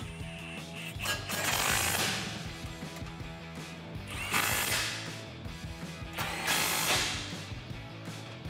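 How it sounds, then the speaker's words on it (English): A ratchet with a 17 mm socket tightens suspension bolts on a Toyota Tacoma during a Rough Country 3-inch lift install, giving three bursts of quick clicking, fairly close and moderately loud, with gaps between them. "we're gonna run this in with a 17 millimeter socket"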